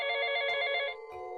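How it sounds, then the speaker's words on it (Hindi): A phone ringtone rings out in a dark street during a power cut, a bright tonal ring with two bursts, the first long and the second cut short, fairly close and clear with no talk. "मेरा फ़ोन बजा"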